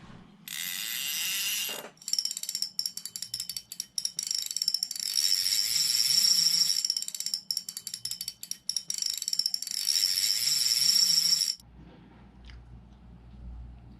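A Shakespeare Sharky 3 fishing reel mechanism is cranked in close, ratcheting bursts of rapid clicking and grinding, broken by short pauses, before it stops and quiet low noise remains.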